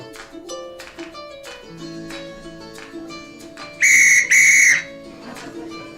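Two loud, shrill whistle blasts, each under a second, sound in quick succession over a background of murmuring voices and children's chatter.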